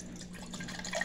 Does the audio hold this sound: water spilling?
yes